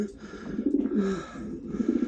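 Soft, low coos from young German Houben racing pigeons rise and fall in a steady murmuring rhythm, several birds close by with gentle overlapping calls.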